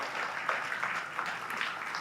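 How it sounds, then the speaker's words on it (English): An audience at a spiritual lesson applauds in a soft, steady patter, faint and somewhat distant, with no clear speech over it. "Go ahead, give him a round of applause."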